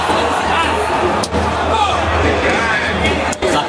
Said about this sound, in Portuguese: O povo começa a vaiar.